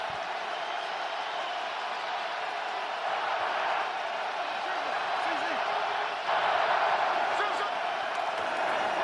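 Roaring stadium crowd at an NFL AFC Wild Card playoff game, Las Vegas Raiders at Cincinnati Bengals, a steady loud wash of fans that swells louder near the end, with faint announcer talk underneath.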